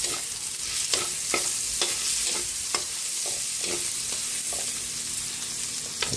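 Garlic sautés in a pan with a constant close sizzle, broken by a run of sharp clicks and scrapes from stirring at an irregular, fairly quick rhythm.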